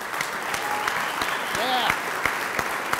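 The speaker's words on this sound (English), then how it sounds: "Please join me in giving them all a big round of applause." An audience at the Blade Show knife awards gives a big round of applause, steady dense clapping throughout, with a brief voice or whoop rising above it midway.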